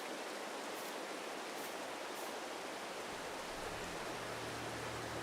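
Steady rain in the Farming Simulator 22 video game, a dense, even hiss of falling rain that runs unbroken throughout, with a faint low hum entering near the end.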